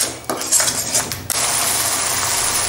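Garlic-ginger paste being stirred in a cooking pan while making white gravy chicken, with scraping and clinking utensil sounds, then a steady sizzling hiss that continues to the end.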